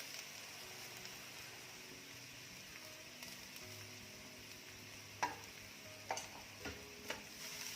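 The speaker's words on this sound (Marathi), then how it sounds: "खोबरं देखील छान रंग बदलेपर्यंत भाजून घ्यायचं आहे।" Grated coconut roasts with browned onion in a pan over a medium-low flame, giving a faint, steady sizzle. Several sharper scraping clicks of stirring come toward the end.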